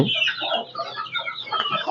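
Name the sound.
free-range country chickens clucking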